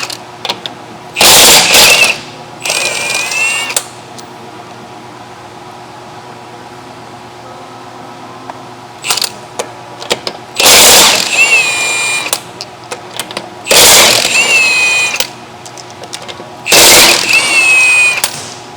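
Impact wrench taking lug nuts off a 2011 Honda Insight wheel, several loud whirring bursts of a second or two each, with quiet gaps between them and no talking.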